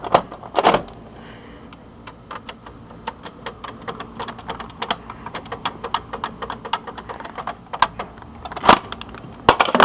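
Mechanical clicking and ticking from the cassette tape mechanism of a 1980 Soundesign stereo, a dense run of small irregular clicks with a few louder clacks over a faint background hiss.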